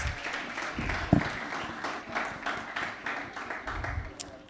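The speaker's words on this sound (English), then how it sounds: "Let's give him a round of applause," Audience applause at a Sierra Leone banking event, moderate scattered clapping that swells and fades over a few seconds, with some voices and stray noises mixed in.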